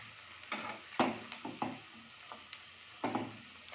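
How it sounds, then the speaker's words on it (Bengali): Shrimp and mustard-greens fritters in a rice-flour, semolina and cornflour batter fry in oil over a low flame, with soft sizzling broken by several spatula stirs and turns. "লো ফ্লেমে দিয়ে ধীরে ধীরে ভাজতে হবে, তা না হলে ভেতরে কাঁচা থেকে যাবে আর বাইরেটা লাল হয়ে যাবে।"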